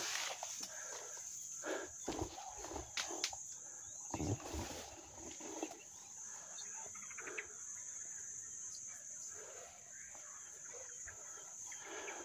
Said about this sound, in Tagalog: Oh, mga ibon, oh. Pakinggan niyo mga ibon.